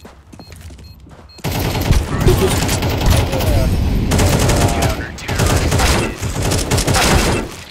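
Gunfire in CS:GO 2 on the Dust II map, rapid bursts of automatic shots and sharp cracks coming in loud clusters after a quieter start, with brief gaps between volleys.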